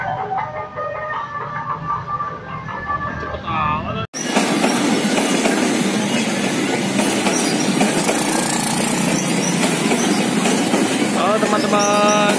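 A KRL commuter train bound for Bogor Kota passes along the rail track, close and loud: a continuous rumble with rattling wheels and metallic squeals that grows fuller after a brief cut, with background crowd noise and music.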